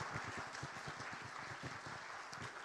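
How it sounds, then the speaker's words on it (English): Steady applause from an anniversary event audience, dense clapping filling the whole clip with a few louder individual claps standing out. "So can we give a big applause to Professor Dato Aini Idris from UPM."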